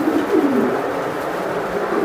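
Pakistani teddy pigeons coo in a soft, low, continuous murmur, close by, with no other sounds breaking through.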